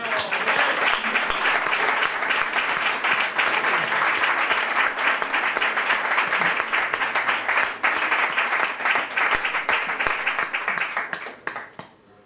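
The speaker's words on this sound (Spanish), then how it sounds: "me gustaría darle un fuerte aplauso para nuestro querido Antonio Carrera" An audience at a flamenco club gathering claps warmly for Antonio Carrera, a strong continuous burst of applause that holds steady and then tapers off at the end.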